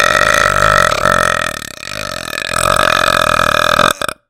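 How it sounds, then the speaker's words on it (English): A single very long, loud burp, close up, rolling on for about four seconds with a rough, gurgling texture before cutting off abruptly. "I think that's the longest burp I've ever fucking done"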